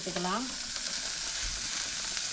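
Food sautéing in a pan for sambar, a steady loud sizzle and crackle of frying throughout, with a brief tonal squeak near the start.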